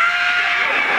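A woman imitates her own scream from labor during childbirth with a single sustained, shrill, high-pitched vocal cry that fills the whole moment at steady loudness.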